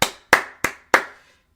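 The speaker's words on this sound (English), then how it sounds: "Give me a round of applause." Four sharp, separate hand claps ring out close and loud in an uneven rhythm, each one fading quickly, with no talk around them.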